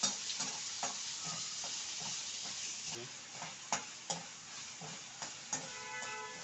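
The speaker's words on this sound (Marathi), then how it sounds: "कांदा टाकते हे जरा मी लाल करून घेते" Onion with green chilli frying in a pan for a Marathi-style red pumpkin bhaji, a steady close sizzle broken by repeated scrapes and stirs of a spoon against the pan, with no talking.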